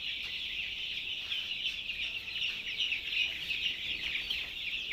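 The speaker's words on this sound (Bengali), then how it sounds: "মুরগি তো সব এদিকে চলে আসবে" A flock of hens at a poultry brooding setup clucks and chatters continuously at moderate volume, overlapping calls forming a steady busy bed with no voices.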